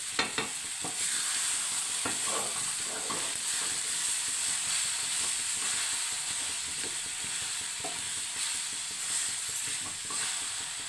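Grated carrot stirred in a hot pan for carrot palya, a steady close sizzle and hiss with soft scraping strokes running throughout, no voices.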